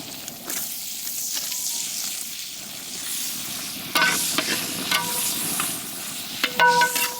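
Chopped onions sauté in a frying pan with ginger and garlic for a chicken dish. A steady close sizzle runs throughout, broken by the scrape and clink of stirring, louder in the latter half.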